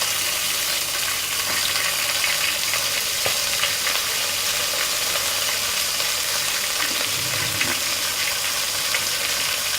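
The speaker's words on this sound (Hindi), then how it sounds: "अब इसको मछली को अच्छी तरह भून लेंगे" Fish pieces and garlic frying in a pan, a steady bright sizzle and crackle running throughout at close range, with faint stirring sounds and no talk.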